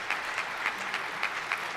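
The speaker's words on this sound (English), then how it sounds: "those people are also scum who stood up and clapped that" An audience stands and applauds, producing a steady, dense wash of clapping from many hands with faint rhythmic accents throughout.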